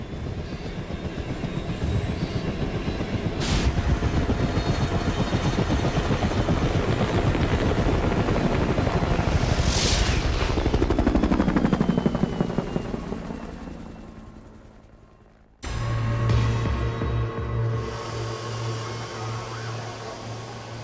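Helicopter on a medical airlift after a rail disaster in Japan, a loud, continuous rotor thump and whine that swells as it passes close, then cuts to a steady, lower drone.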